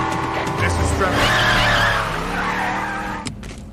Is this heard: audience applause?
no